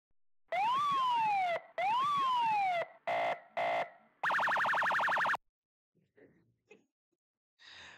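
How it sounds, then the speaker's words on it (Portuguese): Two loud rising-and-falling wails, then a couple of short bursts and a rapid warbling siren, followed by faint, scattered noises. "Bora para mais uma vez a sirene"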